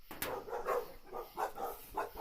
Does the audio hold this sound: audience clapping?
no